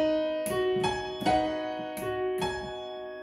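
Bar 90 of a piano piece is played on keyboard, a slow series of sustained chords and single struck notes, about five attacks ringing into one another, quiet and alone.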